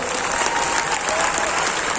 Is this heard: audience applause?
yes